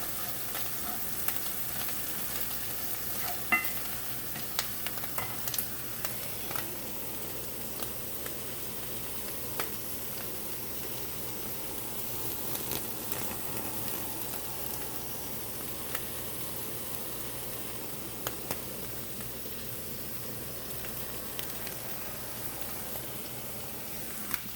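Ramen ingredients sizzle faintly in a pan over a long stretch, with soft, scattered scrapes and clicks as they are stirred, all quiet and without talk.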